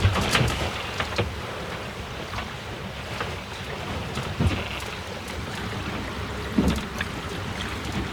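A small trailer sailboat under way at sea, single-handed and sailing south, with steady water rushing past the hull, occasional splashes and slaps, and wind buffeting the microphone throughout, no talking.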